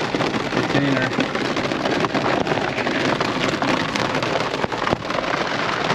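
Heavy rain pours steadily from a strong downpour at a Swedish-style crawfish boil, a dense loud hiss on surfaces near a Jeep throughout, with a person briefly speaking over it.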